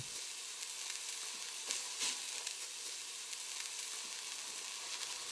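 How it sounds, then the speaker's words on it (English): A meat roast sears on a stovetop, a constant close, bright sizzle and crackle with small spits and pops, no voices. "sear the meat on each side to a dark brown"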